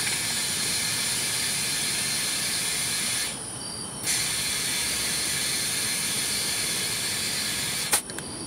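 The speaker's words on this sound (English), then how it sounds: "So luckily I own my own compressor, so I have this adapter that'll connect to the tires." An air compressor inflates a car tire through a tire adapter, a loud, steady hiss of air running nearly nonstop with a brief drop partway through and a small click near the end.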